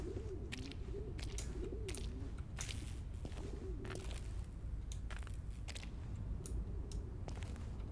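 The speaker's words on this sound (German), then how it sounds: "Okay, das sind Tauben." Pigeons coo in the video game INDUSTRIA, repeated low burbling calls over a steady rumbling ambience, with a few clicks and taps scattered through.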